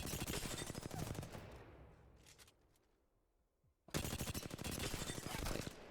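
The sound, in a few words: gun shots in video game Apex Legends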